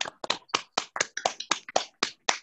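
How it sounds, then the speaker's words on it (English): A round of applause for Dr. Ashby, a speaker, at the close of her talk: about ten distinct, fairly close claps in an uneven rhythm, with no one talking over them. "give Dr. Ashby a well-deserved round of applause"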